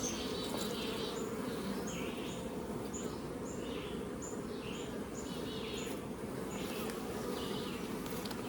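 Honey bees drone steadily around an opened hive with a laying worker, a dense close buzzing hum throughout, with faint bird chirps repeating in the background.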